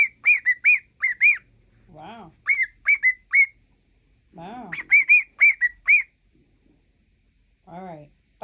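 A pet cockatiel whistles a clear, bright tune in repeated short phrases, loud and close, with brief bursts of human talk between the phrases.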